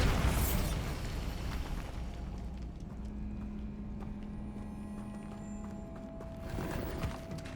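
A Bombarda spell explosion in the video game Hogwarts Legacy goes off as a loud, sudden burst at the start, then fades into a low rumbling tail with steady hums underneath.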